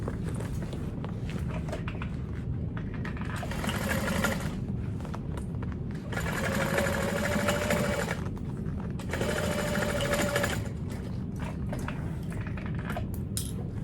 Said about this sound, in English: you're just gonna sew from one stitch line to the other